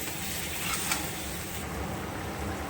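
Ridge gourd slices hit a hot pan with oil, giving a steady, dense sizzle that runs throughout alongside light stirring scrapes, close and continuous with no voices.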